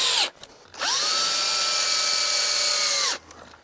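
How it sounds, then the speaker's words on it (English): A power drill drives coated screws into RV corner molding, a short burst then a sustained high whine of about two seconds that winds up and slows at the end, close and clear with no talking. "Position the molding where you want it and start a couple screws to hold it in place."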